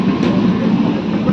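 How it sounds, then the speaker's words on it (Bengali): A train rumbles steadily and loudly at close range as it pulls into a station, a continuous low roar of wheels and carriages with no talk over it. "तो आमादेर ट्रेन चले एसेछे, ट्रेनटा थेमे गेले आमरा उठे पड़बो।"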